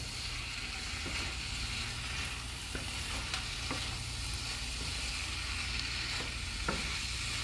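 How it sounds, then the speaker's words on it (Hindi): Soybeans in chili garlic sauce and soy sauce stirred in a sizzling pan, a steady loud sizzle with repeated scraping strokes throughout. "Now mix this well"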